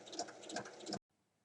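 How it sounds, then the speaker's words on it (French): Sewing machine topstitching around the edge of a striped fabric bag, 1 mm from the edge, making a steady close mechanical whirr with a fast stitch rhythm for about a second before cutting off abruptly into silence. "je vais faire une surpiqûre"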